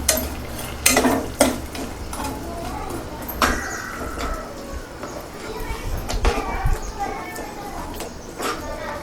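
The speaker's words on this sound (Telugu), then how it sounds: "బెల్లం మొత్తం కరిగే వరకు ఉంచాలి ఇలాగే కలుపుతూ ఉండాలి" Mashed moong dal being stirred into melted jaggery in a pot for payasam, with intermittent scraping and clinking of a spoon against the pot at close range and talk going on alongside.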